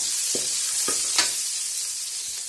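Onions sautéing with salt in a pan make a steady sizzle broken by a few soft stirring scrapes, close and alone.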